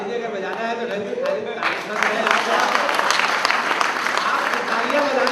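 Audience clapping at a comedic poetry event, starting sparse under a speaking voice and then swelling into fuller, louder applause that continues with talk heard alongside.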